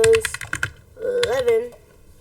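Quick bursts of keystrokes on a computer keyboard, close and crisp, in two short runs with a voice talking over the second.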